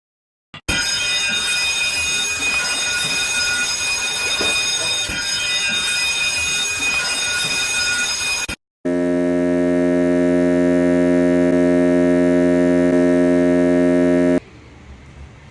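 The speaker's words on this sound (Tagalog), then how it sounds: "Continuous ringing of the ship's fire alarm, bell" A ship's fire alarm rings continuously as a shrill electronic tone, then switches to a lower, harsher buzzing tone that holds steadily before cutting off abruptly.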